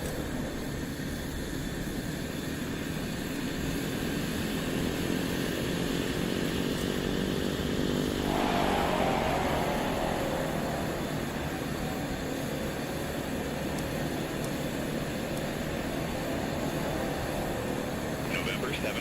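Steady, loud drone of a Black Square Caravan turboprop airplane flying in Microsoft Flight Simulator 2024 through stormy weather, with an unbroken engine and propeller roar and people talking over it.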